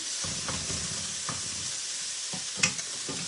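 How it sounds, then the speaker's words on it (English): A pink mix and chop tool scrapes and breaks up a frozen piece of meat in a sizzling Brilliance skillet, with faint, irregular scraping strokes over a constant quiet frying hiss. "Using my old mix and chop, my pink one, with a little frozen piece of meat there, so I was just trying to get it unfrozen"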